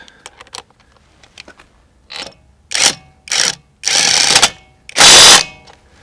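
A Litheli U20 half-inch cordless impact wrench tightens car lug nuts, starting with a few light clicks and then giving several short, loud hammering bursts that grow longer, each followed by a brief pause.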